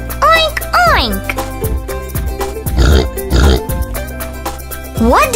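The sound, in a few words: pig oinking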